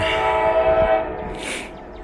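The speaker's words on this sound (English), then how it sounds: "And they blew that horn throughout the entire crossing." A Norfolk Southern freight train horn blares a long sustained chord at a crossing over the rumble of passing rail cars, loud and nearby, then fades under the rolling train noise.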